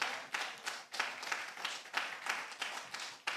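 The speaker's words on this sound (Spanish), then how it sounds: "denle un fuerte aplauso al Señor" A church congregation claps in a steady rhythm during a worship service. The beats are quiet and regular, each a sharp burst repeating about every third of a second, with no talk over them.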